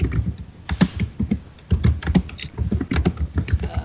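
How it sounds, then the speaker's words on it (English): Loud typing on a computer keyboard, close and rapid, irregular bursts of sharp clicking keystrokes with brief pauses between runs. "Tash, your typing is a bit loud."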